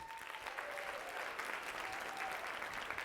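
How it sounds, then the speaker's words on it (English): A conference audience at a marketing keynote claps loudly in a sustained, even burst, heard from a distance at a low level. "I want you to just clap really loud if we've had any interaction before"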